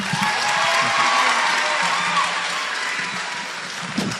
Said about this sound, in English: Another round of applause for Kevin.